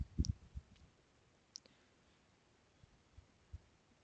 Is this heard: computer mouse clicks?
yes